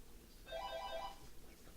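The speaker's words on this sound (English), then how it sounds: "Hey, it's a phone" A phone ringtone chirps faintly in a room during a tabletop game session, one short melodic burst of electronic tones that is gone quickly.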